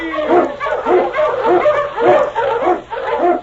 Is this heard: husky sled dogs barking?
yes